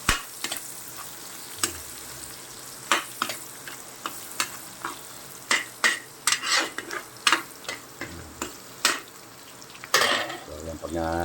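Pansit canton noodles fry in a pan under brisk stirring, the steady sizzle broken by frequent sharp clicks and scrapes of a utensil against the pan, close and fairly loud.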